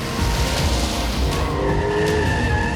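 Goodyear car tires squeal and scrub steadily under a droning engine during a handling test, a continuous loud skidding noise from a vehicle being pushed hard through turns.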